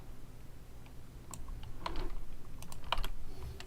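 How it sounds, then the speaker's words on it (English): Steady typing on a computer keyboard, a quick run of close, light key clicks with a few louder taps, heard alone. "let's go ahead and type both these names in chat"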